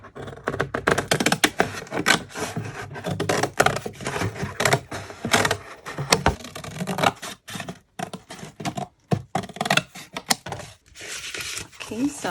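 Cardboard boxes being cut by hand: a long run of rapid, scratchy snipping and tearing strokes, close and fairly loud, with brief pauses between the cuts.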